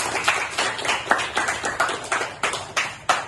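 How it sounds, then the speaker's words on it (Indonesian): Rhythmic clapping by a junior high school class for group 1, a series of sharp, evenly spaced claps in unison, close and clear with no talk. "Beri tepuk tangan untuk kelompok 1"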